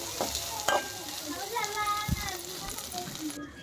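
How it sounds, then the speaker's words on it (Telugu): Taro root pieces dropped into hot oil with already-fried onions for a curry, giving a steady close sizzle with stirring clatter and a brief sharp spatter burst midway. "పొట్టు తీసేసి కట్ చేసి పెట్టుకున్న చామగడ్డలను నేను ఉల్లిపాయలు వేగాయి కదా అందులో వేస్తున్నాను."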